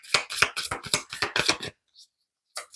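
Tarot cards being shuffled and drawn: a quick run of crisp, rapid card flicks and riffles up close, then a brief pause before a couple more soft card snaps.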